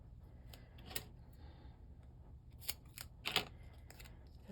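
Scissors snipping material for a decorated box, a few quiet, separate crisp cuts spaced irregularly, with a closer cluster near the end over a faint room background.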